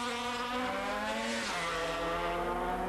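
Superbike racing at the NW200 road race, with Carl Fogarty's Honda among the machines: a loud, sustained high-revving engine note whose pitch holds steady and then drops sharply near the middle, as if passing by or shifting, with no talking.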